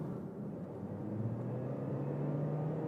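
A 2024 Toyota C-HR GR Sport cruises calmly in normal mode, giving a faint, smooth cabin hum and low road rumble with a mild whir rising slightly, and no one talks.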